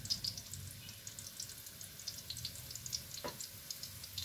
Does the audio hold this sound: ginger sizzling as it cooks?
yes